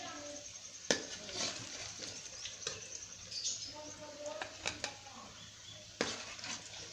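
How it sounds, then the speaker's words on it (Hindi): Fried mutton being served out of a cooking pot in a village kitchen: scattered metal scrapes and clinks of a spoon against the pot, with soft background noise. "मैं इसको डिश आउट कर रही हूँ अभी।"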